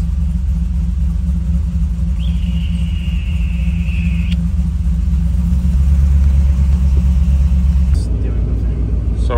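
A Chevy G20 Nomad van with an LS swap and a 4L80 transmission runs with a loud, steady rumbling idle close by, a brief whine rising partway through, then a shift in tone near the end.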